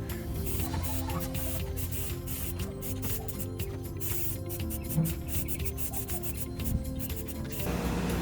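Rust-Oleum aluminum primer hissing from a spray can onto aluminum frames, a continuous close rushing spray lasting several seconds with brief dips, alone without talk.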